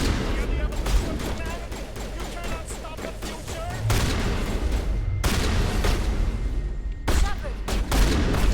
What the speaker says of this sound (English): I realise that a shotgun is not the best weapon at this range